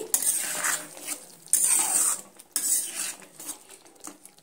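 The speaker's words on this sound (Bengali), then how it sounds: "এবার আমি হালকা হাতে এইভাবে কুমড়ো আর চিংড়ির সঙ্গে এইভাবে মিশিয়ে নিচ্ছি" A utensil stirs pumpkin and shrimp in a pan, with scraping and clinking strokes in irregular bursts, close and moderately loud, with faint sizzling between them.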